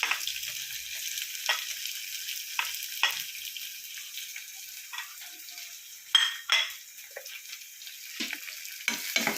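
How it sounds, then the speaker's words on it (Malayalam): Chopped chilli leaves sauté in hot oil with a steady close sizzle, while a spoon stirs and clinks against the pan in scattered scraping bursts, without any talking. "നമുക്കത് എണ്ണയിൽ വഴറ്റി കൊടുക്കാം."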